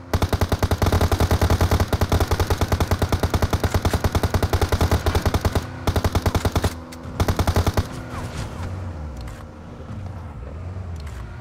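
Sustained rapid automatic gunfire in the PUBG Mobile video game, loud, dense bursts that stop and restart briefly before giving way to a vehicle engine drone.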